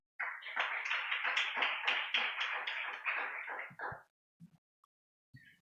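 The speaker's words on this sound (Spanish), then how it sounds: "Den un aplauso al Señor." A church congregation applauds together, a loud sustained burst of clapping lasting about four seconds before tapering off, followed by a few faint isolated sounds.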